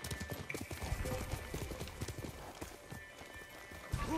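Rapid hoofbeats gallop steadily throughout, a close, rhythmic clatter with a faint whinny, game-style sound effects from Ghost of Tsushima and no speech.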